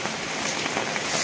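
Steady rain falling in May weather, a dense, even patter of drops close by that fills the whole short stretch without pause, with no voices over it.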